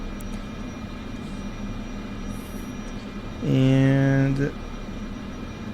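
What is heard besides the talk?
Cessna 208 engine at high idle, video game MSFS 2024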